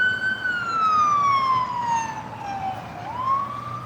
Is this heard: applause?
no